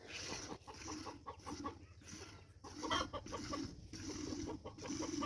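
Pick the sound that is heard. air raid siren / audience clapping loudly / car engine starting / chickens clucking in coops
chickens clucking in coops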